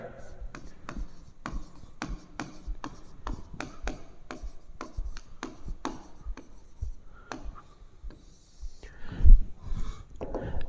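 A pen or chalk scratching and tapping out a phasor diagram, rapid short strokes in quick succession, soft and close, thinning out toward the end with a brief louder knock.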